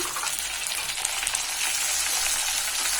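Ginger garlic paste and chopped tomato sizzle in a frying pan with fried onions while being stirred, a steady, close crackling hiss with faint stirring scrapes.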